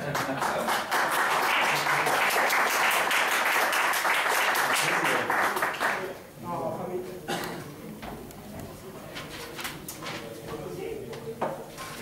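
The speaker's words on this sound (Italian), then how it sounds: "Grazie, ora potete anche applaudire lei." An audience applauds a performer at Spazio Ligera in Milan, with dense clapping for about six seconds before it fades into scattered claps and a speaking voice.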